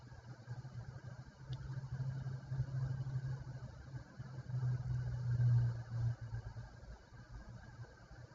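A sewing machine runs a quarter-inch seam on a quilt block, a steady low motor hum that speeds up and slows across several seconds, close and continuous without speech.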